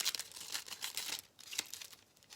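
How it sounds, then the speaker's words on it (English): Scissors snip a bag into jagged, pointy triangle edges, making quiet crinkly cuts and rustles in a quick uneven rhythm, close up and faint. "I just took my scissors and I just made little triangle edges on it."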